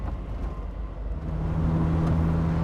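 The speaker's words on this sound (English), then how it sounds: "that Zeta engine with definitely an exhaust on it is nice and free revving" Zeta engine of an Evante British sports car with an aftermarket exhaust, a low rumbling idle that swells partway through into a louder, steadier droning rev, heard up close and alone.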